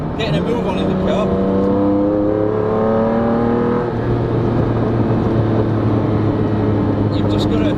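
A Lamborghini Diablo SV engine revs up through rising tones inside the cabin, then settles into a steady loud drone, with a voice speaking over it.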